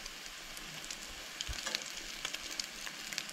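Mixed vegetable cutlets made with rice flour fry quietly in a pan, a soft continuous sizzle dotted with small crackles and pops.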